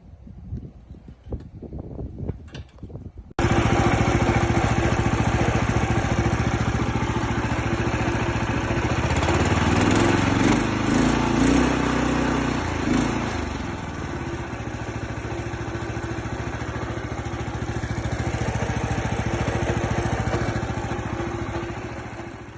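A DuroMax go-kart motor, left sitting for a year, runs loud and close with a buzzing, rough idle that wavers and then evens out. It runs on its own throughout, with no voices.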